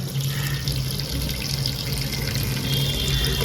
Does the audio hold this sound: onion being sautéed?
no